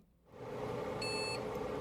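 A short electronic startup error beep sounds once from a PC, a clear high tone lasting about a third of a second over steady computer fan hum.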